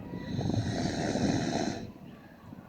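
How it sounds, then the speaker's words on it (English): A farm animal on a farm in El Salvador breathes heavily with a long, rough, snoring-like rasp at close range, which then falls off into quieter breaths. "Listen to him breathing."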